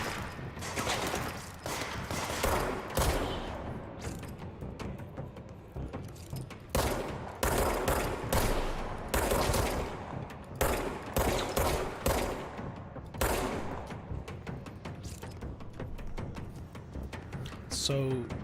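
Rapid gunfire in the video game Control, bursts of repeated shots and fusillades spread across the clip, loud and dense, with a player talking over them.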